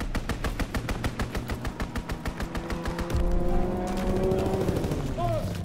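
In the Call of Duty: WWII video game, a fighter plane makes a strafing run on a flak tower. Loud, rapid automatic gunfire rattles for about three seconds, then gives way to a heavy roaring rumble with faint whistling tones.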